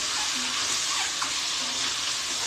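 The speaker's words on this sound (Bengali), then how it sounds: "ডিমটাকে আমি ভালো করে ভেজে নেবো লাল করে।" Eggs browning in hot oil in a home kitchen produce a continuous bright sizzle with faint bubbling and occasional small spits, close and even throughout, with no voices.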